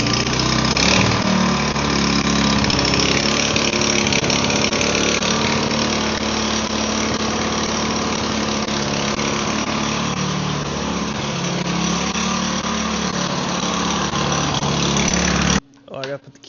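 A snow blower's small gasoline engine starts and runs steadily at close range, a loud continuous buzzing drone that holds for about fifteen seconds before cutting off abruptly.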